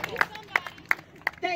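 Scattered claps from a small outdoor crowd at a Black Lives Matter march, several separate sharp hand claps spaced irregularly over murmuring voices and chatter.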